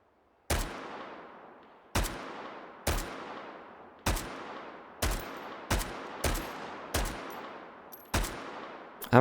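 Single shots from an AR18 rifle in the VR game Hot Dogs, Horseshoes and Hand Grenades crack out loud and close, about nine sharp reports spaced roughly a second apart, each trailing a long echoing decay.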